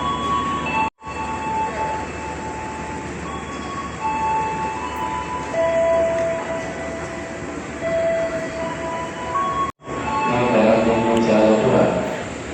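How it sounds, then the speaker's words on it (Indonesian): The KA Jaka Tingkir New Generation passenger train approaches with its locomotive, giving a steady rumble, rail hum and clatter with tonal whines, heard from a station platform while people talk over it. "KA Jaka Tingkir sudah mulai kelihatan lokomotifnya."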